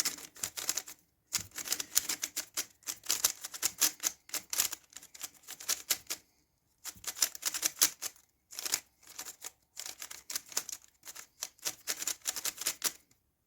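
Rapid clicky turning of a magnetic Moyu Huanmeng YS3M speed cube in bursts, crisp plastic clacks with short pauses between sequences, close and fairly quiet.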